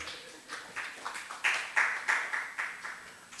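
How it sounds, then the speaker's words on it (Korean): Church congregation at a Friday worship service clapping together to encourage a young evangelist, a moderate burst of applause swelling and fading in uneven waves over a few seconds, with no talk. "격려의 박수 한번 쳐줍시다"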